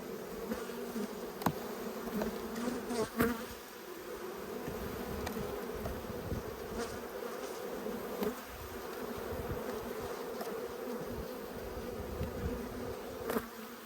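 Honey bees buzz steadily and close during a late-winter hive inspection, a continuous droning hum with occasional brief knocks and clicks.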